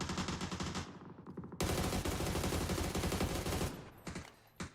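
Dense, sustained gunfire rattles through a competitive shooter league match, the rapid shots running almost continuously with a brief lull before tapering off near the end.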